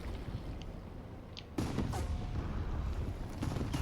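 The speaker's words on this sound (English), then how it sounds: "this artillery fire is getting a bit too close for comfort" Artillery fire in War Thunder, with a muffled low rumble that gives way to a sudden loud blast and rolling booms, then continued heavy thuds.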